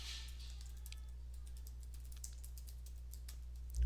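Light, rapid keystrokes on a computer keyboard patter steadily while someone types into an Excel spreadsheet, faint and close over a constant low electrical hum.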